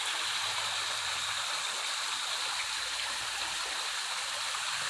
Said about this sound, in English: So we're down below that waterfall